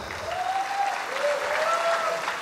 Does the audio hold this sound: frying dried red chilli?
no